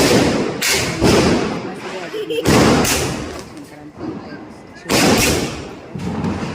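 Firecrackers burst during Deepawali celebrations: three loud, booming blasts spaced a couple of seconds apart, with rumbling noise between them and voices talking faintly underneath.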